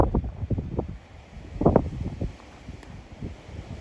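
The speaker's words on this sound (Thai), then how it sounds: "ลมพัดเลย" Gusty wind buffets a microphone outdoors, coming in uneven bursts of low rumbling roar that swell and fade, loud and close, with no talking.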